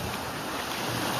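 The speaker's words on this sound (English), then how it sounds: "Just listen to the waves crash." Ocean waves wash onto a beach at Playacar, Mexico, a brief, steady surf roar with wind, no talking.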